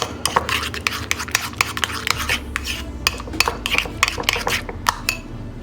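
Mayonnaise and cracked pepper are stirred briskly in a bowl, producing rapid, loud scraping and clinking of a utensil against the bowl in a steady uneven rhythm, with no talk.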